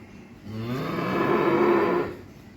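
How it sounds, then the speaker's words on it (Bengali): An eight-month-old Friesian heifer calf on a farm gives a single drawn-out moo lasting about a second and a half, fairly close and clear over faint background noise. "এই হলো আমার আজকের এক নাম্বার একটা ফ্রিজিয়ান বকনা বাছুর"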